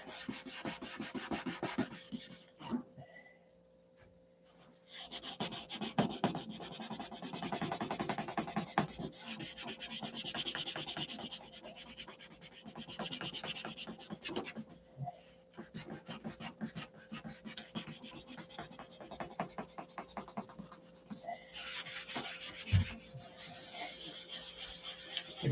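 A model airplane is sanded by hand with 2000-grit sandpaper, giving soft, quiet rhythmic rubbing strokes in bursts with short pauses between them.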